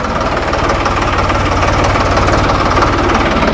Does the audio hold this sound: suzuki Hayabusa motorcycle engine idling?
yes